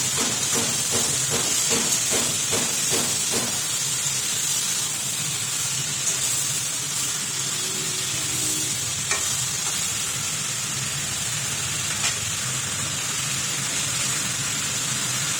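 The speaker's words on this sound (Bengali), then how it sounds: "আলু পটল যে ভাজাটা ছিল আর রোল, সেটা দিয়ে ভালো করে একটু নেড়ে নেবে" Fried potato and pointed gourd being stirred in a pan for a vegetable dish with hilsa fish head, a steady close sizzle and hiss running throughout, with a burst of rhythmic scraping strokes near the start.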